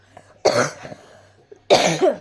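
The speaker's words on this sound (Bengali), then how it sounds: "ভীষণ কাশি উঠে যাচ্ছে যখন তখন।" A woman coughs in two separate loud, harsh bursts, one near the start and one near the end, with a quiet pause between them and no talking.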